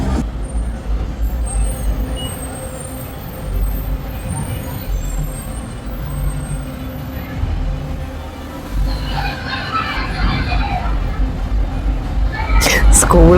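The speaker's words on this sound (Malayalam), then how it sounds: "അങ്ങനെ നോക്കി നിൽക്കുമ്പോൾ അടുത്ത ബസ്സും എത്തി" A school bus pulls up with a low engine rumble and a hiss of air brakes near the end, while children's excited shouting and chatter fill the scene throughout.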